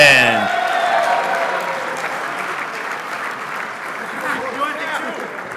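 Sustained crowd applause at the 1/10-scale IFMAR Worlds 2023 RC racing awards banquet at Hobby Action RC Raceway, dense steady clapping from a large audience, with an announcer's voice briefly at the start and some crowd voices mixed in.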